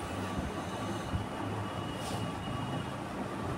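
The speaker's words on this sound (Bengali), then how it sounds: "পরের দিন ভোরবেলা ট্রেন পুরী স্টেশনে ঢুকলো।" A passenger train runs overnight toward Puri with a steady low rumble and broadband rolling noise, loud and continuous from inside the carriage, with a faint brief clank near the middle.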